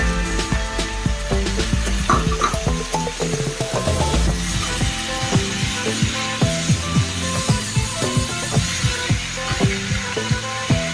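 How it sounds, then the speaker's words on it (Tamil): Finely chopped tomatoes sizzle in a hot pan while a utensil repeatedly clacks and scrapes against it in an uneven rhythm, close and fairly loud. "அது நல்லா இந்த மாதிரி பொடியாக நறுக்கி சேர்த்து நல்லா வணக்கிக்கலாம்"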